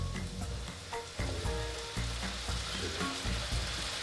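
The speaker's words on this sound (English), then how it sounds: "So now we're going to add 3 tablespoons of apple cider vinegar." Beef birria cooking in a hot pan as apple cider vinegar goes in, giving a loud, steady sizzle and frying crackle with stirring clatter and scraping throughout, close and continuous, no voices.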